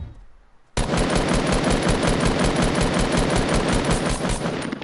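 Sustained, rapid machine gun fire in a shooting video game, loud and continuous after a sudden start, with a steady rattling rhythm and no talk.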